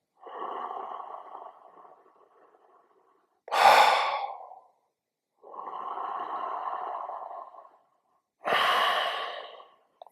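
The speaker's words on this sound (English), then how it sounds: "And slower inhale, faster exhale." Slow, deep breathing exercise: two long, soft inhales alternating with two quicker, louder rushing exhales, close up with silent gaps between breaths.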